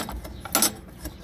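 A chicken house door lock, a simple slide lock without a bolt, clicks and clatters as it is worked open, a few short mechanical knocks close by and fairly quiet.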